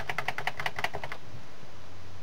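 Rapid keystrokes on a computer keyboard running Ubuntu, about a dozen crisp close clicks in a quick burst that stops after roughly a second, leaving quiet room tone.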